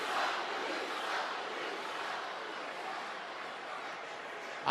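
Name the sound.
wrestling arena crowd cheering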